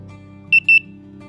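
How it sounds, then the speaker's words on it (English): A Tasmota-controlled buzzer gives two short, sharp electronic beeps in quick succession, close and clear over a faint background hum. "buzzer1 plays a single beep and buzzer2 beeps twice"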